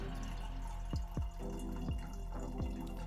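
Water falls in about five distinct, evenly spaced drips with a descending plunk. They sound over a steady low hum as an automatic orchid watering system's pump and reservoir refill.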